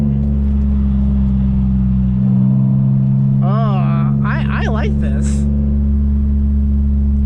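A 2009 Mitsubishi Eclipse GT with a custom exhaust hums with a deep, steady engine drone from inside the car, holding an even note while someone briefly speaks over it.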